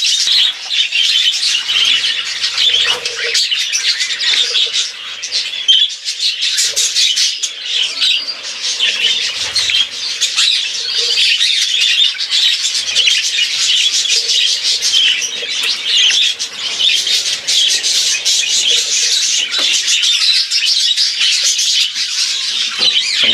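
Dense, continuous chirping and squawking from many small lovebirds, loud and close, with no talking.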